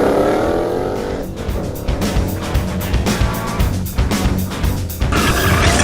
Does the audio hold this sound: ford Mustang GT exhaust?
yes